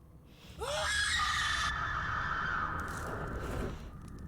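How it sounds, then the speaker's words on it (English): Single loud scream from a survival video game trailer, rising sharply then held for a couple of seconds before fading into a low rumbling backdrop. "Impressive scream, by the way."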